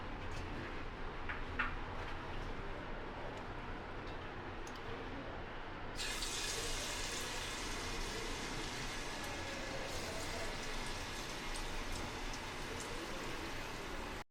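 Thin, small beef slices hit a hot pan of oil after fried garlic for beef balachao, giving a steady close sizzle with fine crackling pops that suddenly grows brighter and louder midway, continuing evenly to the end.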